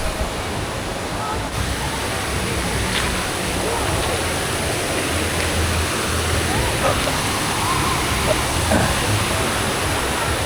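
Continuous broadband roar of Taytay Falls in Laguna, a steady rushing wash of falling water that fills the scene evenly from start to finish, loud and close, with faint voices mixed into the noise.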